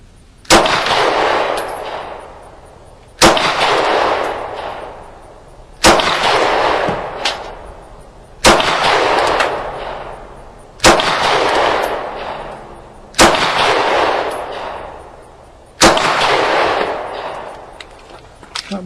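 Ruger LC9 pistol fired at an outdoor range, seven sharp, loud shots spaced about two and a half seconds apart, each cracking close and trailing off in a long echoing decay.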